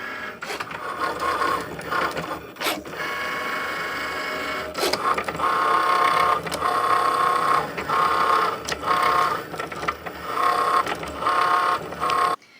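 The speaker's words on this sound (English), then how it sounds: "the machine takes the mat into the machine and then it moves its carriage over to the right hand side" A Cricut smart cutting machine draws in its mat and shuttles its carriage, giving a steady mechanical whir with repeated pulsing motor tones and a few clicks, close and moderately loud.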